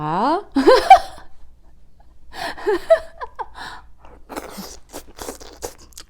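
Someone bites and chews a mouthful of gamjatang, a pork bone and potato stew with radish greens, making a few soft, wet crunches up close between bits of laughter and speech.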